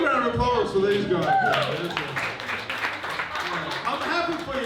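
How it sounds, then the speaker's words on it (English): Comedy club audience breaks into applause and some cheering, a loud rush of clapping that swells after a spoken line from the stage, with voices over it. "big round of applause for these guys."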